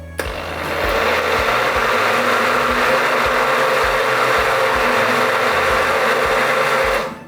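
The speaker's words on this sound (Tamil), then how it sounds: "அப்போ இதில் நாங்கள் மிக்சியில் போட்டு இதை நல்லா சேர்ற மாதிரிக்கு அடிக்க போகிறோம்." A mixer grinder blends Milkmaid condensed milk and food colouring for falooda, a steady loud motor whir that starts after a brief click and runs evenly for several seconds before cutting off.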